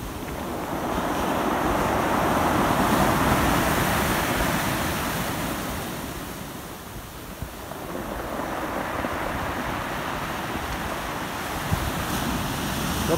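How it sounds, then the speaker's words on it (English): Ocean surf roars and washes continuously, a big wave swelling and breaking then receding, with wind noise and no voices. "Couple of big waves."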